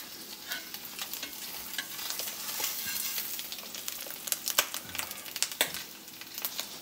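An egg fries in a new, freshly seasoned cast iron skillet, a steady close hiss of sizzling fat broken by sharp crackles and pops that grow livelier toward the end, with no voices.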